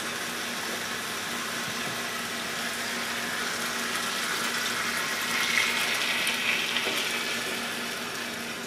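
Sauce hits a hot wok for chicken and broccoli, a steady broad sizzle and hiss that swells slightly midway, with no talking over it.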